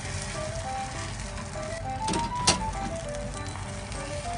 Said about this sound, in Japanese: 卵焼きから焼きます